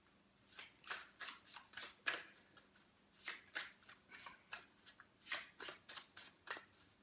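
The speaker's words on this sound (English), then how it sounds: "I'm just going to give them a quick shuffle so I can get to the reading." A deck of tarot cards is shuffled by hand, heard close and clear as a steady run of quick riffling bursts with short pauses between them and no talking.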